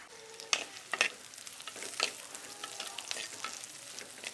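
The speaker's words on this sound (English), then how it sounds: "while it is sauteing, just add some curry leaves" Bird's eye chili and curry leaves sautéing in a pan for a Sri Lankan potato curry, a faint sizzle broken by a few crackling pops and light stirring scrapes.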